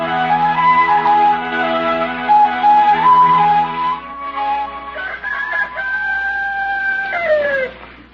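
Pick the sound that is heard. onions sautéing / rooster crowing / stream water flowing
rooster crowing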